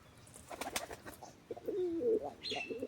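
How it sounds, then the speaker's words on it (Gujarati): A freshly caught kabro pigeon gives a few soft coos and calls close by, with light scuffling and flutter-like rustles around them and no one talking. "તો જો મિત્રો કાબરો કબૂતર પકડાઈ ગયું છે"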